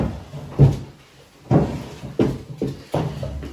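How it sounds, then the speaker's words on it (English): Drawers in a Cornwall holiday house are pulled open and pushed shut several times in a row, each with a close wooden knock and slide separated by short pauses. "I'm just looking through the drawers because I'm nosy."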